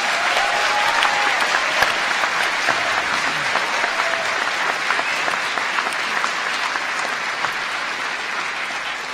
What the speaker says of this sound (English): I would like to give them a massive round of applause for all their work.